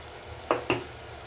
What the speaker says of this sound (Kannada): ಈ ಮಸಾಲೆ ಬೇಯ್ತಾ ಇದೆ.